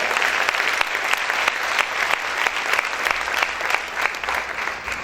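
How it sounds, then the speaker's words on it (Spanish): A church congregation applauds loudly, a dense, steady burst of many hands clapping close by with no pauses. "Si ese aplauso es para el Señor, déselo fuerte."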